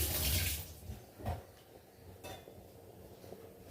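Water is poured into a cooking pot while making sambar, a short splash and rush at the start followed by quieter clinks and knocks of metal utensils.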